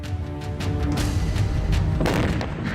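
A building is destroyed by an explosion in Afghanistan's Anardara district: a deep, rumbling blast roars loudly and continuously, with heavy low thuds and crumbling debris noise swelling midway as the large structure collapses close by.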